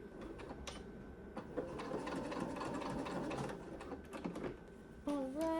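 A sewing machine runs steadily, stitching a quarter-inch seam along the edge of a pair of beginner boxer-style summer shorts, with a short pause and a voice appearing near the end.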